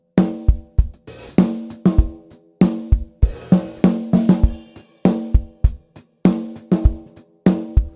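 Snare drum with its top head tuned medium tight, struck alone in a close, loud groove of sharp cracks with ringing tones and occasional busier fills.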